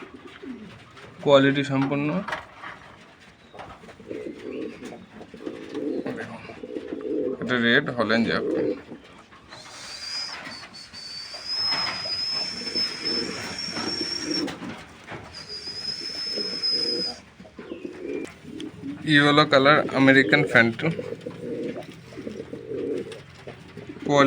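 Red Jacobin pigeons at a large pigeon farm, bursts of low cooing alternating with stretches of talk and a loud high-pitched tonal noise in the middle.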